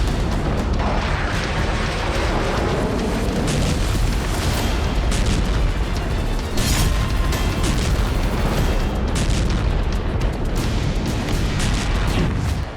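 A very large explosion in Iran comes through as a dense, continuous roaring rumble, with heavier booms and bursts breaking through. No voices are heard.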